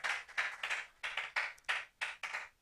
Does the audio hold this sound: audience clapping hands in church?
yes